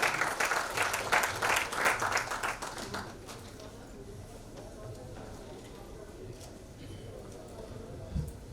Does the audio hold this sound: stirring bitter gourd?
no